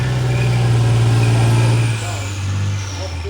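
An M60 Patton tank at a tank weekend event at a Canadian tank museum drives past with a loud, low, droning engine rumble that eases slightly after a couple of seconds.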